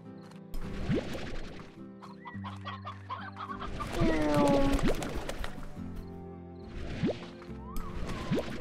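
Chickens clucking in the video game Slime Rancher, a flock of game fowl giving repeated close clucks and squawks over a busy mix of game sound effects and music, with a voice talking now and then.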